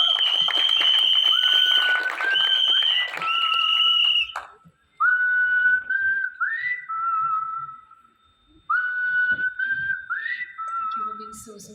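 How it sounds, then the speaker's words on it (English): Loud whistling rings out over audience applause at a film trailer launch press conference in Mumbai, with long sustained whistles on top of clapping. Bursts rise and break off several times. "Vidya Malavari, can we have a big round of applause for her?"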